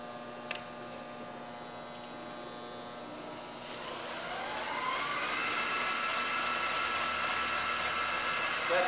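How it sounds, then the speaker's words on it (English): Motor of a gain-in-weight batching feeder starting up alone, a steady hum that swells and climbs in pitch as it comes up to full speed, over a constant mains-like drone. "You'll be able to hear the motor change pitch when I start it."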